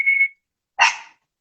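A single dog bark rings out after a short high electronic beep, the bark brief and fairly close with silence on either side.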